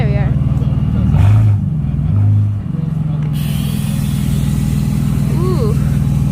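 A BMW engine idles at an outdoor car meet in Griffith Park, a steady low rumble close by, with people talking over it.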